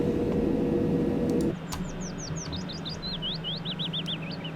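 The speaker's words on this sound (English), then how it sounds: "You do hear birds singing quite a lot on this route, as you just heard." Birds sing in Train Simulator 2018 on London's North London Line, a quick series of clear, high, sweeping chirps after a loud train rumble cuts off, with a low engine hum continuing underneath.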